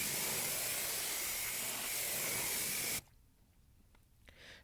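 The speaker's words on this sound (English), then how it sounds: "I'll go ahead and I'll pre-rinse everything on the wheel" Water spray hisses steadily at close range as a car wheel is pre-rinsed, a dense broadband rush that cuts off abruptly after about three seconds, leaving quiet room tone with a few small knocks.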